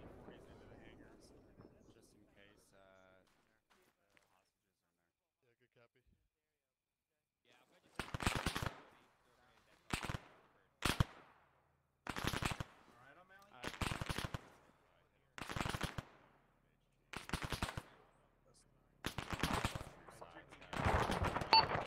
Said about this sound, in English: I think you're firing at friendlies.